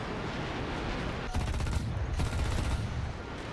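Aircraft cannon fire in War Thunder, a few rapid bursts of automatic shots over a steady engine drone, fairly close and loud.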